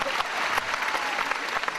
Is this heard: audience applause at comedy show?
yes